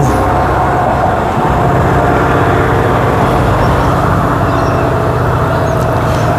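A Perth suburban train on the Thornlie-Cockburn line near Carlisle station rumbles steadily as it picks up speed, a loud, continuous broadband roar heard from on board.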